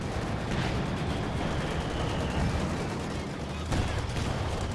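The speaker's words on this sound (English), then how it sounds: "Somebody's shooting us." Rapid gunfire and battle noise from Company of Heroes 2, a World War II strategy game, with tanks such as a Panzer IV and Cromwell, forming a dense continuous barrage with a sharper burst near the end.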